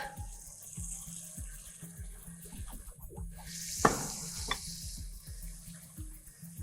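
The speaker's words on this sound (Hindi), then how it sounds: "अब हमारी चिकन वाइट होने के बाद हम इसके अंदर डालेंगे अपना दही।" Yogurt tipped into chicken sizzling in a pan for yakhni pulao, a steady frying hiss with a low rhythmic bubbling pulse throughout and a couple of sharp spits and clatters midway.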